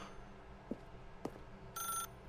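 A telephone rings in the video game The Stanley Parable: one short, bright ring burst near the end, after two soft knocks, over a quiet room hum with no talking.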